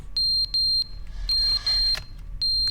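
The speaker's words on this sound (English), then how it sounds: "The fire alarm's going off." Fire alarm in The Stanley Parable 2, high electronic beeps in short paired bursts separated by gaps, with a faint rumble of background noise between them; loud and close, no talk.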